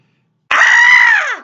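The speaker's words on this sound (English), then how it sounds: "George heard a scream." A single loud, sustained cartoon scream rises abruptly out of silence, holds for about a second, then trails off and drops in pitch at the end.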